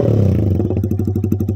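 Yamaha R25 motorcycle fitted with a full-system exhaust idling loud and close, its steady low burble breaking into a rapid rhythmic popping pulse in the second half.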